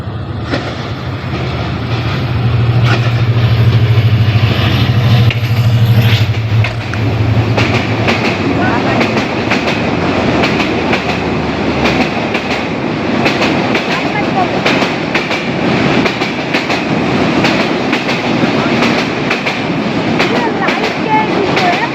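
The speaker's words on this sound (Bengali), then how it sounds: "তো কেমন লাগলো ট্রেনের শব্দ আপনাদেরকে অবশ্যই কমেন্টে জানাবেন।" A train running through Rajshahi at night gives a loud, continuous rumble with rhythmic clickety-clack of wheels over rail joints, close by and sustained throughout, with some voices faintly mixed in.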